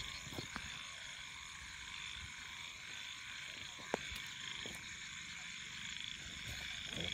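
Frogs croak near water at night, a dense steady chorus of rapid pulsing calls from many animals, moderately loud and continuous, with a few faint clicks and no voices.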